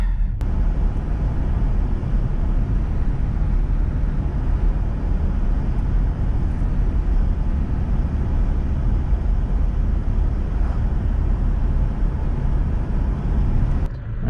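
A 1997 Toyota Tacoma pickup with a 2RZ-FE engine and a lean P0171 fault, heard from inside while driving: a steady, loud, low rumble of engine and road noise, unbroken throughout.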